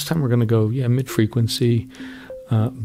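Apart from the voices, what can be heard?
No distinct noise like a dog, phone or traffic.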